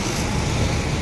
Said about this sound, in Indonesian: Bus Palembang Sari Harum. Inilah dia baru tiba di Terminal Kampung Rambutan.